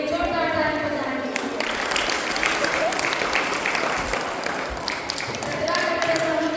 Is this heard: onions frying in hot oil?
no